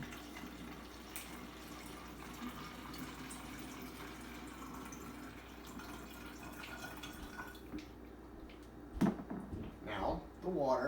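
Vinegar, about 14 ounces, trickles and pours into a bottle for a homemade chemical-free cleaning spray, a soft steady liquid flow with a few louder splashes and clunks near the end, while a person talks over it.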